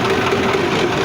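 A 2023 Massey Ferguson 385 tractor runs steadily at low, normal RPM, its engine a constant close droning rumble with a faint tonal hum and no talk.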